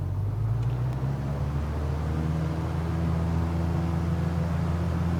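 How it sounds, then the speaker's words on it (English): A flight simulator aircraft engine runs at full throttle for takeoff, a steady, fairly quiet low droning rumble that holds evenly throughout with no voices. "Go full throttle."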